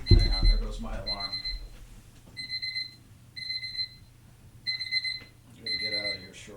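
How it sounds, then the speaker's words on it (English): An alarm clock beeps in repeated bursts of bright electronic tones, six clusters spaced about a second apart, close and fairly loud, with a voice speaking over the first part. "there goes my alarm"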